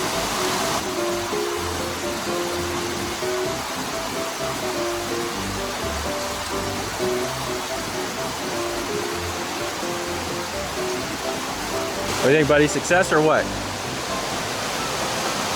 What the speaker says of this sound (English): I hear more water. I'm thinking we're probably right by the waterfall now.